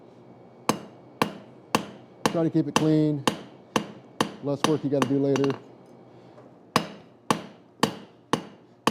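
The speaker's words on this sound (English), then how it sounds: "all I'm doing at this point is cleaning up the biggest hammer marks I'm seeing" Steady hammer blows on hot metal at a forge, cleaning up the biggest hammer marks, ringing out one after another with clusters of quick strikes and short pauses, loud and close, with someone talking briefly between strikes.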